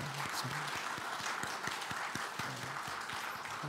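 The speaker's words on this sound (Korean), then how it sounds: "우리 한 번 더 격려의 박수를 했으면 좋겠습니다" A church congregation applauds steadily, many hands clapping in a dense, continuous patter heard from a distance.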